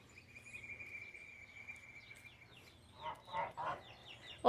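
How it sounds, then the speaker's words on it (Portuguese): Chickens cluck in a few brief, close bursts near the end over a steady insect chirr, then a sudden loud call at the very end. "Olha as galinhas como cresceram."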